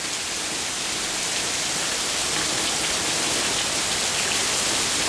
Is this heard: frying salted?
no